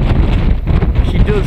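Strong wind gusting at around 25-30 mph buffets an outdoor microphone at an RC model flying session, a loud, low rumbling roar that surges and dips throughout.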